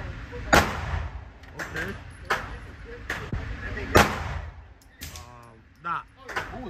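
Several sharp reports from a Glock 43X pistol ring out at a shooting range, spaced irregularly and loud against the background, with people talking between the shots.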